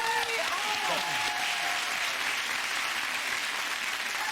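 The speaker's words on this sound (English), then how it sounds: "More applause" A TV chat show studio audience gives a dense, sustained round of applause for several seconds, steady and moderately loud, with voices faintly mixed in.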